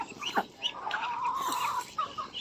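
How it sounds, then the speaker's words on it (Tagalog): Egg-laying hens clucking close by on a Filipino farm among ducks and geese, a run of short, scratchy clucks and one drawn-out squawk, with no talking. "Ito naman mga alaga ni Boss Ander na manok nilang itlog."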